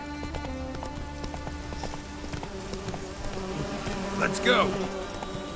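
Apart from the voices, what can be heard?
horse Roach galloping, from video game Witcher 3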